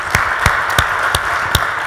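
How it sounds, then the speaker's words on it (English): A small group's scattered applause, sparse individual claps spaced apart rather than a dense ovation, fairly loud and close with no talking over it. "So give yourselves a round of applause."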